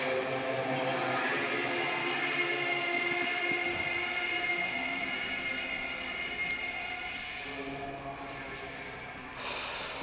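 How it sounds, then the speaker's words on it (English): A Caprice Canema motor carriage outside in the Disco Elysium video game: a continuous low, droning engine hum with a faint hiss holds steady, easing slightly before a brighter noise rises at the end. "The sound outside, you recognize it. It's a Caprice Canema motor carriage."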